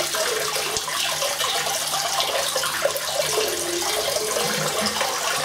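Hot water streams from a bathroom tap to warm an Edwin Jagger DE89 double-edge razor, a steady close hiss of running water that continues without pause or talk.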